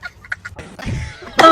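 A sick person nearby lets out a few short, harsh coughs and throat noises, ending in a louder rasping burst.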